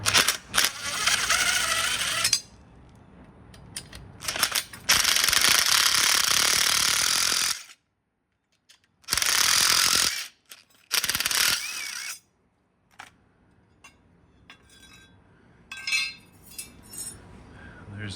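Gear case bolts on a Whirlpool direct-drive washing machine are loosened with a ratchet: loud bursts of rapid clicking and clattering, broken by pauses and lighter metallic clinks, close by.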